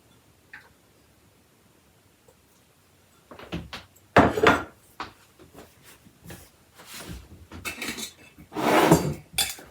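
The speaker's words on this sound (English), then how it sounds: "I've got a bunch of cilantro here, and it's washed, and I'm just going to drop that in." Washed cilantro going into a pot of Vietnamese chicken pho broth, heard as a few close clattering knocks and rustling bursts after a quiet start, with no talking.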